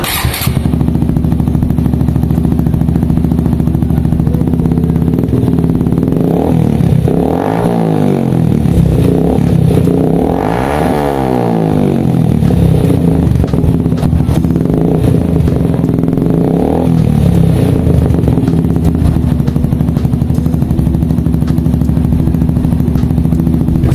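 Motorcycle fitted with a Yoshimura Hurricane GP-89 exhaust with the silencer removed, a loud, raspy close-up drone with a couple of rising and falling revs in the middle before settling back to a steady idle.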